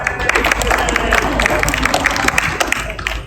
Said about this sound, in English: I think Jimmy needs a round of applause.